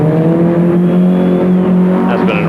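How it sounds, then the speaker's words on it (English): A Datsun 1600 rally car is driven fast downhill on a dusty stage, its engine note loud, strained and close throughout, with a commentator's voice partly over it. "going very quickly downhill. And finishing in a most spectacular manner somewhere in that dust is Mick Howard's Datsun"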